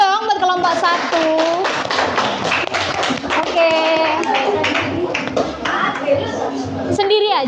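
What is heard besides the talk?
classroom students clapping for group 1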